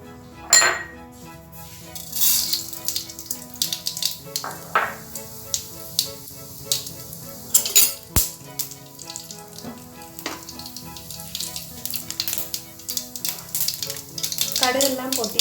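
Mustard seeds crackle and pop in hot oil in a Kerala-style kitchen, where ginger has already been fried, making a dense, steady sizzle broken by sharp, irregular spits and occasional clinks of a pan and utensils, with no talking.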